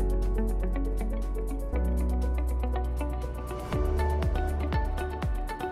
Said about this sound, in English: take your Cloud 9 towel and wet it with warm water and wring out any excess moisture